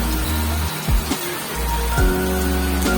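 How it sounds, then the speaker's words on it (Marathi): Heavy rain pours down in a steady, loud hiss with patter on surfaces, a low rumble coming and going beneath it. "आणि बघा किती पाऊस पडतोय"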